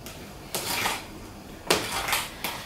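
Pumpkin cheesecake filling scraped and stirred in a bowl, two bursts of scraping and clinking of a utensil against the sides, close and fairly loud, with quiet pauses between.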